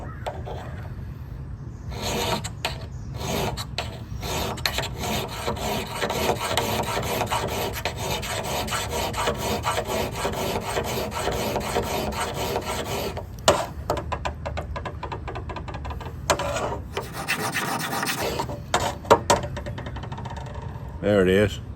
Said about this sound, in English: I drag back 20 times and feel for the burr